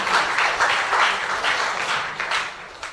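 Applause from the audience at an Islamic College mushaira poetry gathering in 2017, a burst of crowd clapping that swells in pulses and gradually fades over about three seconds.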